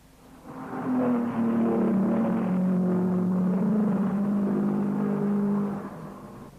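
A 1950s Formula 1 race car roars past at the Swiss Grand Prix, its engine note swelling in from a distance, holding a strong, steady howl for several seconds, then fading away. No voices.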